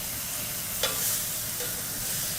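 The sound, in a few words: butter sizzling in a frying pan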